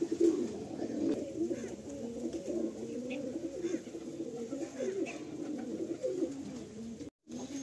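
Several pigeons coo continuously in a loft in Kolkata, a steady overlapping bed of low rolling coos that fills the space nearby, with no voices.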